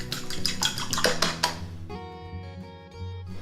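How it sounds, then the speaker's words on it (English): A whisk clinks and rattles briskly against a bowl while beating two eggs for scones, close and fairly loud, then the clatter stops, leaving a sustained ringing tone. "I'm gonna start with 2 eggs. And give them a bit of a whisk."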